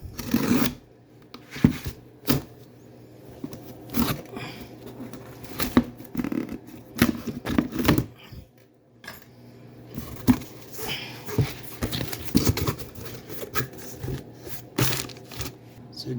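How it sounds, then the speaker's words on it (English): Handling and opening a genuine torque converter from a 2016 Chrysler Town & Country transmission with a P0740 code, heard as scattered sharp clicks, taps and rustling knocks of metal parts at close range, without talk. "let's open it and see what we got."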